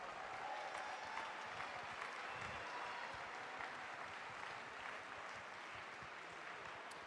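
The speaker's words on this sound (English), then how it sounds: "please give them a round of applause" Sustained applause from a crowd at an evening session of a London fitness competition, steady and broad clapping for the volunteers throughout, fairly distant and even in level with no break.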